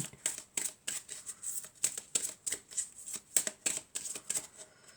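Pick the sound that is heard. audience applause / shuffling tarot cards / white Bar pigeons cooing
shuffling tarot cards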